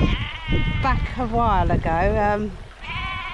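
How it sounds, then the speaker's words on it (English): A ram bleats on Dartmoor with a loud, wavering, drawn-out cry, close by, while someone talks over and around it. "Larry the ram, and he's come back now to haunt me."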